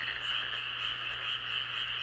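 Frogs in India croak in a dense, steady chorus, an unbroken trilling drone that stays even throughout with no voices.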